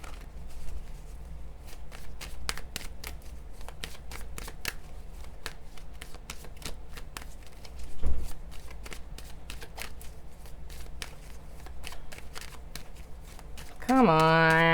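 A deck of tarot cards is shuffled by hand again and again, a long run of crisp, rapid riffles and flicks at close range, with a soft bump midway and brief talk at the end.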